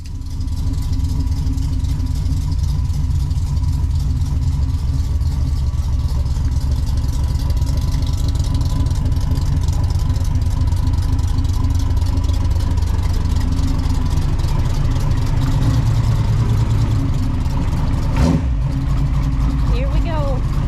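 A race car engine idles loudly and steadily close by before a first test drive, a continuous low rumble with a brief sharp knock near the end, while people talk over it.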